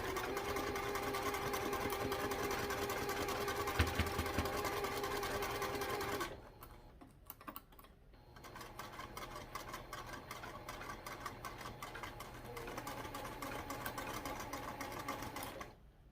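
A sewing machine runs fast and steady basting around a mini backpack, a dense continuous whirring stitch, then a brief pause with small clicks before it resumes stitching at a similar pace, close by.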